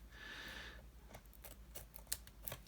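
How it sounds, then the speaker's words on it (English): Scissors cutting paper while a small ephemera storage journal is assembled, a faint brief snip followed by scattered light clicks and paper handling, quiet and close. "I'm going to cut along there, and then I need to cut that bit off"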